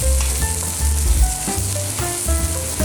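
Food browns in a hot pan with a dense, loud sizzle, while faint tonal background music plays underneath.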